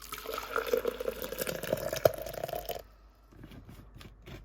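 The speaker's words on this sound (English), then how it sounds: "Then it's time to pour it in for the NutriBullet." Hot, steaming cacao drink poured into a NutriBullet blender cup, a steady liquid pour with dribbling splashes for almost three seconds, then trailing off to quiet faint drips.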